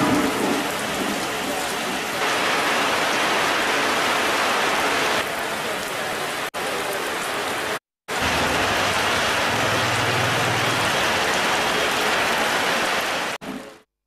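Widespread rain falls over the Chennavaram and Paathiri areas, a dense, loud, continuous hiss of drops on surfaces with a brief cut partway through and no voices.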